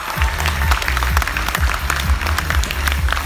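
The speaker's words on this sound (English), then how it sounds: "Give yourself a big round of applause." Audience applause at a themed dinner event, a loud, close burst of clapping riding over a pounding bass-heavy music beat, sustained and energetic throughout.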